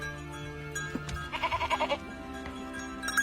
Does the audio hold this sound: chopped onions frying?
no